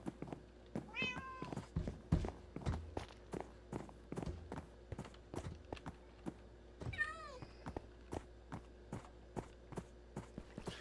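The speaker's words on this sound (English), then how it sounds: "there's a new kitty" A Minecraft cat gives two short meows amid regular footstep clicks, the game's steps ticking evenly throughout at a low, quiet level.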